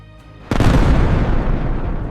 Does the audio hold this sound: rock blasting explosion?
yes